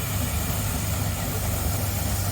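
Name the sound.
McLaren steam traction engine running at a rally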